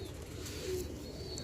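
Slate kamangar pigeons coo softly and continuously in hot summer air in Multan, a low steady murmur of several birds close by, with no voices.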